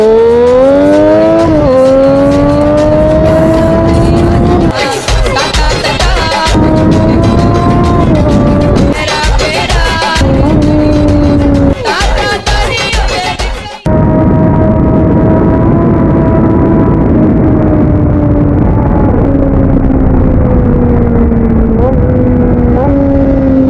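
A Triumph Daytona 675 inline-three with a loud raw exhaust revs up and down close by, rising and falling engine pitch with several sharp throttle blips and crackling bursts, then a long steady high rev.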